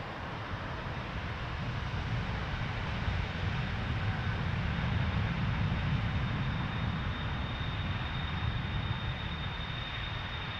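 A heavy Air Canada jet taking off from runway 23 at Toronto Pearson, heard as a sustained, distant engine roar that swells slightly and holds steady throughout, with no voices.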